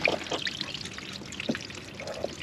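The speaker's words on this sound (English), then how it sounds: "All that water is draining right now." Floodwater drains out of a flooded Ford Focus after a hurricane, a continuous splashing trickle and pour with small gurgles, close and moderately loud.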